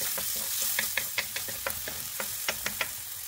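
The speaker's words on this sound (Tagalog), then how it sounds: "ipagpatuloy lang po ang paggisa hanggat sa lumambot na po itong ating mga spices" Garlic and onion sautéing in a wok for bihon miki guisado, a steady sizzle under repeated sharp scrapes and taps of a spatula stirring the pan, close and fairly loud throughout.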